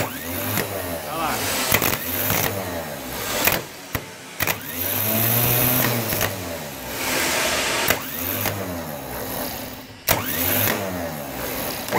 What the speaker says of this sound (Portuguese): essa engrenagem, ela engata no volante do motor e faz com que o motor do carro entre funcionamento